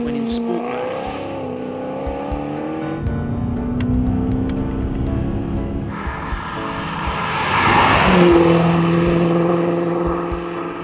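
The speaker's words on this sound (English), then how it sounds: "This must arguably be one of the finest sounding engines in production, with a rich, crackling V8 note that's exceptionally loud when in sport mode." A Maserati GranTurismo S V8 engine hums with a rich tone under a narrator's voice. Its pitch shifts and swells louder near the end, as if revving or accelerating.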